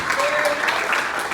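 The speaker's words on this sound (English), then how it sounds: "So give yourselves a round of applause" A crowd at a fundraising event claps steadily, dense and fairly loud throughout the short stretch, with a voice faintly under it.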